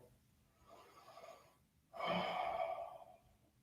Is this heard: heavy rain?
no